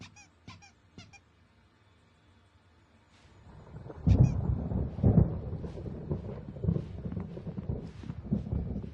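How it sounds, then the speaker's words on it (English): Thunder from an approaching storm rolls in after a few seconds of near silence, swelling into a loud, sustained low rumble with crackling peaks that persists to the end, with a few faint squeaks early on. "There's a storm coming."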